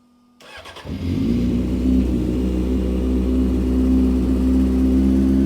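A Honda CBR 600 F4i motorcycle engine cranks and catches, then settles into a steady, deep rumbling idle from the exhaust, loud and close.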